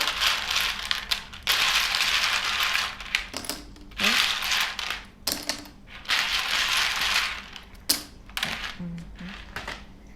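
A deck of tarot-style cards is shuffled close up in a series of crisp, rustling riffles and slides in bursts of a second or two, separated by short gaps with soft handling noises.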